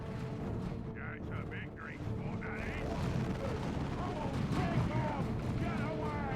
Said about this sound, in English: Oh no, blight grenades in the building.